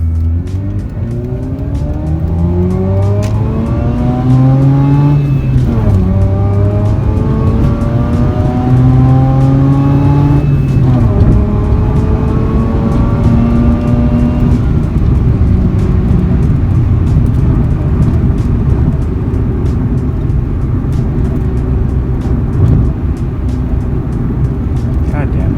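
A Mazda RX8 rotary engine revs hard to the red line through the gears, with repeated rising harmonic sweeps broken by brief dips at each shift, loud and close throughout, with some talk underneath.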